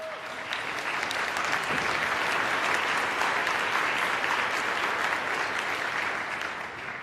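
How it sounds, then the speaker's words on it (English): A large audience applauds in a conference hall at the COP26 climate summit, with dense, sustained clapping filling the room at a steady level from start to finish. "let's give a round of applause to Claire"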